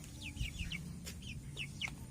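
An Asil chicken clucks and chirps in short repeated calls, fairly faint, against a low background hum.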